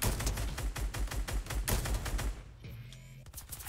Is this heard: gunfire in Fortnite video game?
yes